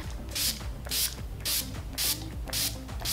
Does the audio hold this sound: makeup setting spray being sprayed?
yes